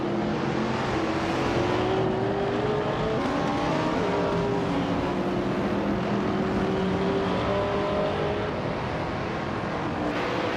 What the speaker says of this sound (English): James Mayo is racing a 1970 Dodge Challenger with vintage Trans Am specifications